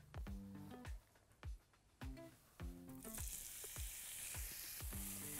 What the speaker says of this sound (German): Das brate ich jetzt für ungefähr 4 Minuten, damit sich die Aromen auch wirklich gut entfalten können